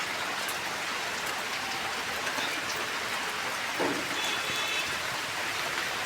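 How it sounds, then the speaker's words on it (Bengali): Heavy rain pours down in a dense, even hiss, drumming steadily on surfaces with no voices present. "খুব বৃষ্টি হচ্ছে দেখো"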